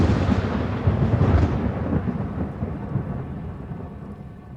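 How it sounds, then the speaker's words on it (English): A thunder and lightning storm rumbles overhead with rain falling, a heavy roll of thunder swelling loud early on and then slowly fading into a softer wash of rainfall. "Lightning started striking the ground around me"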